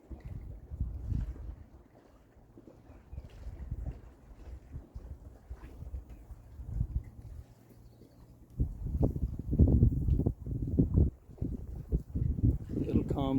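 Easterly wind swirls behind a windbreak outdoors, gusting rumbles and microphone buffeting that come and go and grow stronger in the second half, heard along with someone talking.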